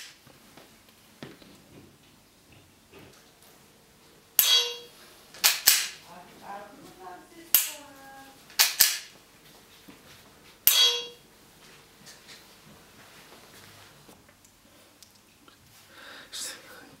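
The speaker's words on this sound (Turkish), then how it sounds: "evde bu küçük oyuncağımla kuru tetik çalışıyorum" Sarsılmaz SAR9 Gen2 pistol dry-fired at home with a laser trainer, giving several sharp metallic trigger clicks and snaps at uneven intervals, close and crisp, with soft low talk between them.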